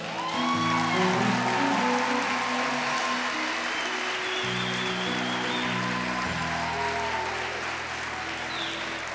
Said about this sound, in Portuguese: Vou dar uma salva de palmas para ele.